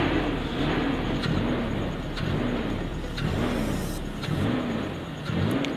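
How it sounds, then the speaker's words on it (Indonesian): A car engine revs up and settles again in repeated cycles while injector cleaner is sprayed into it, a steady close whir with periodic swells and no voices. "Setelah lepas, kita gas ya, lalu disemprotkan untuk cleaner injektornya sambil digas ya"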